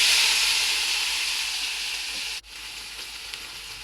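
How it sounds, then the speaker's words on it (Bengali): Okra fries in a hot pan with onion, green chili, salt and turmeric, giving a loud, continuous close sizzle and hiss. It cuts out for a moment, then carries on slightly quieter. "সাথে পেঁয়াজ কাঁচামরিচ দিয়ে হচ্ছে ভেন্ডিগুলো ভাজি করে নিব।"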